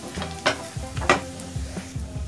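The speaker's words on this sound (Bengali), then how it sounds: "আমার গার্লিকটা খুব ভালোভাবে ভাজা হয়ে গেছে" Garlic fries in butter in a pan, a soft steady sizzle with a couple of louder crackles and stirring scrapes, close up and alone.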